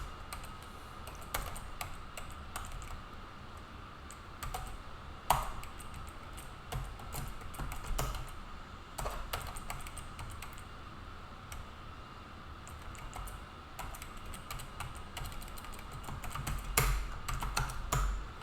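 Typing on a computer keyboard while numbers are entered into C code, a steady run of soft, close key clicks with occasional louder taps over a faint background hiss.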